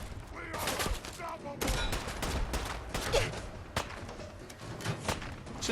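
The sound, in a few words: gunfire from a gun in the video game Fallout 4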